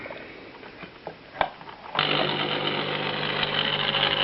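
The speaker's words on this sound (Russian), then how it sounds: "двигатель загудел, ни хрена не крутится" A series-wound electric motor with rotor and stator connected in series is switched on under AC and hums without turning, a few faint clicks first, then a sudden loud steady buzz that holds for the rest.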